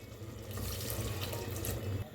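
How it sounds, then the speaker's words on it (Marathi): Water pours into a pot of spiced masale bhat rice, a steady splashing rush that swells after a brief pause and runs for about a second and a half, close and fairly loud. "आता ओतूया पाणी।"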